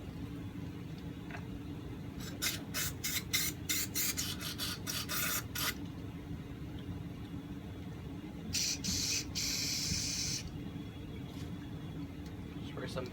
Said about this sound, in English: Spray some forced air through there after.